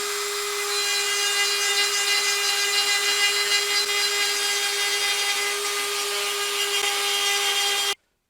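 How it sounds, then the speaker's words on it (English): Dremel burrs grinding and carving a wooden bowl with feet, a steady high rotary whine with a constant pitch and raspy abrasion running evenly, close and alone, then cutting off abruptly. "I've done a little bit of work with the Dremel burrs"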